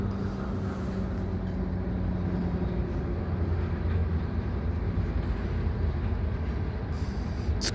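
An oil train shoved by GP38-2 and SD40-2 diesel locomotives, a steady loud rumble of engines and rolling cars passing close by, continuous throughout with no talk.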